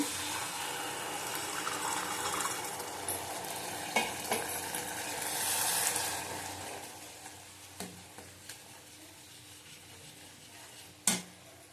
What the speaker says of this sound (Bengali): পরিমাণ মতন জল দেবো